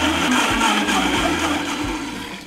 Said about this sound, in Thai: แล้วเราก็จะปั่นให้ส่วนผสมละเอียดเลยนะคะ